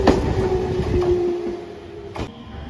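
A two-car JR Shikoku 7000 series rapid train at Tadotsu station rumbles past with rhythmic wheel clicks over rail joints and a faint metallic squeal, fairly near, with no talk.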